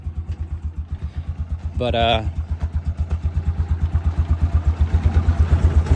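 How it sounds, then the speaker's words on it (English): A 2008 Yamaha Rhino special edition engine runs just after starting on a shot of starting fluid, a loud, steady, rapidly pulsing idle that grows slightly stronger, with a brief spoken word over it. "I used a little shot of starting fluid to get it started"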